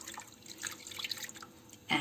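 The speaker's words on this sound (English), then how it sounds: "You can see it's boiling, so I'm going to pour the fresh milk" Fresh milk poured into a boiling agar-agar mixture for a milk and mango pudding, a faint trickling, dripping liquid stream that ends in a louder splash.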